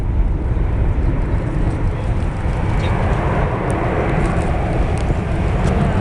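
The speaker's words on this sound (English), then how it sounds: "watch the Airbus now going into a high angle of battle" An Airbus A380 airliner flying a display at the Farnborough air show, heard as a steady, loud, broadband jet roar that holds level throughout with no voices over it.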